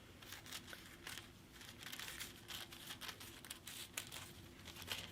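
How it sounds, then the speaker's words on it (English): Scissors cutting tissue paper into strips for a preschool dragon craft, soft crinkling and tearing snips in an irregular rhythm, quiet and close, with no talking. "you're going to get your scissors and cut them into strips."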